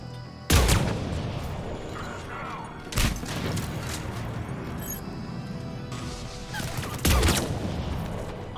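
Sniper rifle fire in the Mass Effect video game, three sharp loud cracks spaced a few seconds apart, each trailing into a long rumbling echo over a busy mechanical background.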